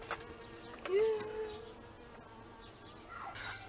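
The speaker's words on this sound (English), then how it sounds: "a bee thought it would come into the video" A single bee flies close past, buzzing briefly and faintly over a quiet indoor room, its drone rising and falling as it passes near.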